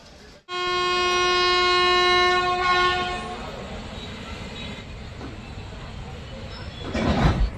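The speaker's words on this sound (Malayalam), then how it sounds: "ട്രെയിൻ അങ്ങനെ ഇതപ്പം കോഴിക്കോട് റെയിൽവേ സ്റ്റേഷനിൽ നിന്ന് ഇതപ്പം വീണ്ടും പുറപ്പെട്ടിരിക്കുകയാണ്" The Kannur–Yesvantpur Express sounds a long, loud horn blast as it pulls out of Kozhikode railway station, followed by the rumble and clatter of the moving train with faint crowd noise and a rising roar near the end.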